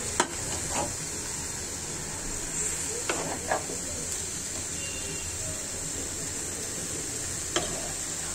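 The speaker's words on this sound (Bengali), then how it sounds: "চাল কুমড়াটা ভাজা হচ্ছে এর সাথে।" Ash gourd frying in a pot with chicken masala, a steady low sizzle and hiss running throughout with a few soft stirring scrapes and clinks scattered across it, heard alone without talk.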